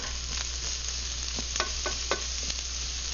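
Vegetable beef stew ingredients stirred in a pot over a steady low sizzle, with several soft scrapes and knocks of a spoon against the pot, close and fairly quiet.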